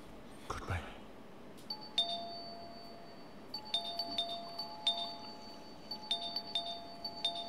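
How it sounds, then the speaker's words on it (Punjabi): An electronic doorbell at an outside gate rings repeatedly, several two-tone chimes in quick succession, clear but moderately quiet, after a brief knock or thump at the start. "ਕੌਣ ਪਾਗਲ ਹੈ ਜਿਹੜਾ ਬਾਹਰ ਗੇਟ ਤੇ ਘੰਟੀਆਂ ਮਾਰੀ ਜਾ ਰਿਹਾ?"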